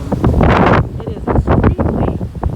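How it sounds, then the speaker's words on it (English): Heavy gusts buffet the microphone on a beach, a loud rumbling roar that surges and dips continuously over the whole stretch. "It is extremely windy"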